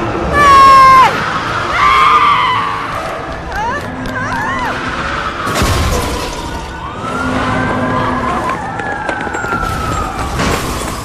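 Loud cries from an adult dinosaur in the LEGO Jurassic World video game, wailing siren-like calls mixed with shrieks and game noise, with voices talking over them.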